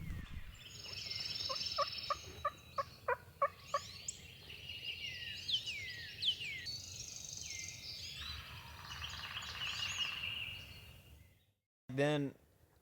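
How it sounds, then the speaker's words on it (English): Wild turkeys gobble in an Alabama spring woodland, several rattling calls overlapping at a moderate distance amid insect and bird sounds, followed by a brief loud thump near the end. "And I yelped and they gobbled."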